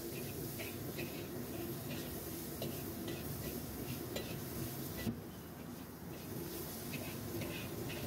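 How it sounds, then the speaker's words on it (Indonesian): Garlic, ginger and sausage sautéing in hot oil give a steady, fairly quiet sizzle and hiss, with small scraping and clicking stir sounds scattered throughout and a brief dip in the middle. "minyaknya panas, kita tumis bawang putih bersama dengan jahe dan sosis"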